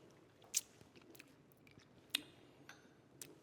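A person tasting and chewing remoulade sauce made with chopped cornichons, faint close mouth sounds with two sharper smacks and a few softer clicks over quiet background, with no talk.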